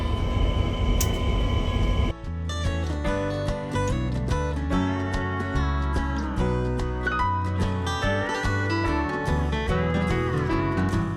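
A Grand Canyon Railway passenger train running on the rails, heard from the far end of the train, a continuous loud rumble with shifting tonal whines and squeals that keep changing pitch after an abrupt start.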